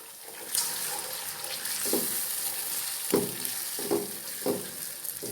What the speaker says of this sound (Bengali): এই পর্যায়ে এসে আমি একটা ডিম এখানে অ্যাড করে দিচ্ছি।